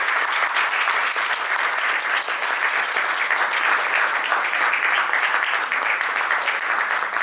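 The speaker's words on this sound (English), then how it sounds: "Another round of applause." Audience applause at a stage talk during a literary festival, dense continuous clapping from a large crowd, loud and even throughout with no voices over it.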